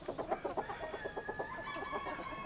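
A domestic rooster courting a hen makes a rapid run of rhythmic clucks followed by a drawn-out, wavering call, fairly close with soft background.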